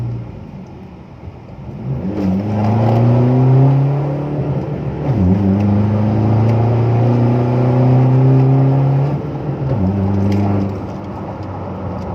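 A car accelerates hard at full throttle, apparently in second gear. The loud, close engine climbs steadily in pitch, drops briefly at a shift, then pulls and rises again before easing off.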